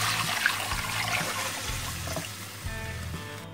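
Yogurt mixture for pakode ki kadhi is poured into a hot pot, giving a steady liquid pouring and splashing sound with faint sizzle, close and moderately loud, with a few light knocks against the pot.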